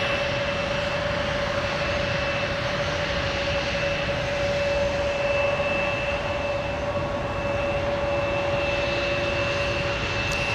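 A Delta airliner jet on the ground at snowy winter MSP airport gives off a steady, loud engine roar with a constant whine, unbroken for the whole stretch and without voices.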